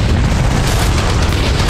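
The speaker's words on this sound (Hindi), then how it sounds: "IDF के इन उपकरणों से हमले के बाद धमाका और उसके बाद आग की लपटें उठती हुई नजर आई।" An explosion follows an attack on Israeli military surveillance cameras and sensors in northern Israel, heard as a short, loud, dense rumbling blast with deep low roar and no quiet gaps.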